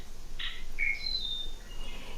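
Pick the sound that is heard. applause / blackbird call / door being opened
blackbird call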